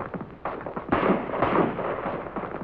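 M14 rifle fired repeatedly on a USMC marksmanship range, several loud, sharp reports in quick succession with broad, booming bursts.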